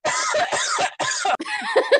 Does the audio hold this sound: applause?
no